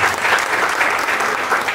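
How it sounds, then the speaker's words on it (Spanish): Workshop attendees clap together in a short, loud burst of applause, a dense crowd of hands clapping steadily with no speech over it. "Aplauso a mis ayudantes, Vlad y Gipe."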